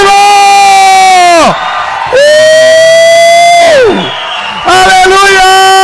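A Portuguese-speaking church congregation shouts with joy in loud, sustained waves of whooping and cheering, three swells separated by brief dips, very close and filling the room.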